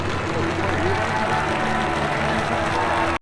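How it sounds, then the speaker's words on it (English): Football ultras crowd in Venice clapping and cheering for their leader, a dense, steady wash of applause and crowd noise close by that runs the whole time with voices mixed in. "No idea who he is, but they're all clapping for him."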